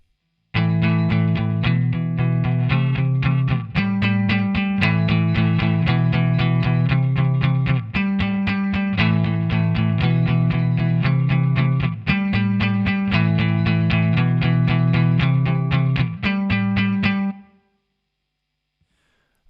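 An electric guitar plays the guitar 1 part from section D of a song, a held power chord with a moving bass note. It is loud, dense and steady, with effects-laden sustained strumming that stops abruptly near the end.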